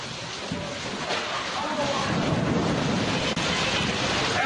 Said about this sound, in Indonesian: Inilah suasana hujan besar yang disertai badai.